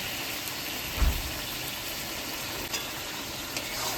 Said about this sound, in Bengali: আদা রসুন পেস্ট করেছিলাম সেটা দিচ্ছি আর দিচ্ছি লঙ্কা